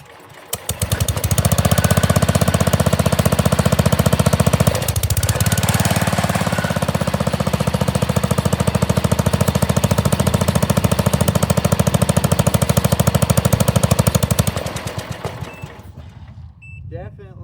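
An old tractor engine on full choke starts up into a loud, rapid knocking chug, runs close and steady with a brief dip midway, then dies away near the end.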